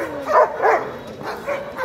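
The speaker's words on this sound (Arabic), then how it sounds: "كلب حلو كلب جدع" A seven-month-old dog at a busy market barks several times up close, short gruff bursts with slight whimpering between them.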